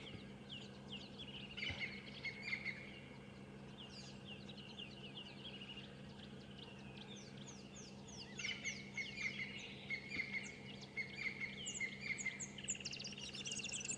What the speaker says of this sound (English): We can also hear some of the same bird calling behind us.